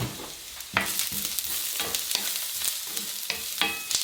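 Onion, ginger and garlic fry in a pan with a soft, steady sizzle, broken by repeated scraping and clattering strokes as a spoon stirs the mixture.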